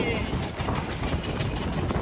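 Rhythmic clickety-clack of a Sri Lankan local train's wheels over rail joints repeats steadily beneath a constant rolling rumble, close and fairly loud.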